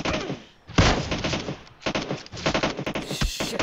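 Automatic gunfire in the mobile shooter PUBG Mobile: loud bursts of rapid shots broken by short pauses, close and dense, with a few single cracks at the end.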